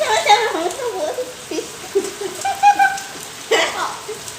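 Rain falls steadily outdoors on an afternoon, a soft constant patter beneath close conversational voices that dominate the foreground.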